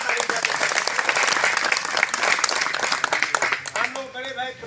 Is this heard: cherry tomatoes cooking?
no